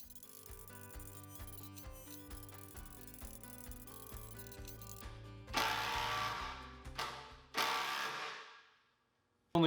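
Cordless drill from DeWalt, Makita or Milwaukee driving screws and bolts, with a steady rattling whir followed by two loud motor surges that cut off, then a brief silence.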